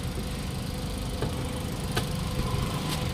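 A Suzuki DA17V mini van's R06A 12-valve inline-three VVT engine idles with the hood open, a steady low hum and rumble with a few faint clicks and ticks.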